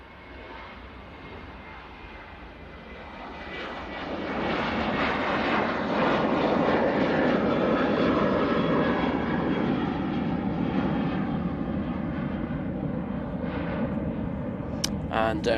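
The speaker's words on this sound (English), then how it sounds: "I think we do have a plane departing, so. There it is, Ryanair." Ryanair passenger jet departing Manchester Airport, bound for Gdansk, its engine roar building over several seconds into a loud, sustained broadband rumble that holds steady to the end, with a voice talking beneath it.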